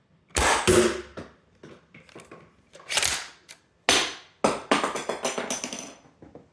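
A Yeethammer launcher fires with a sharp, loud crack. Quick mechanical clacks, snaps and ratcheting clicks follow as the breech works and the round ejects.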